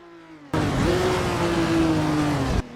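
A vintage Ferrari race car hurtles down the final straight, its engine bursting in abruptly from a quiet hum to a loud, sustained roar with a rising pitch, then cutting off sharply.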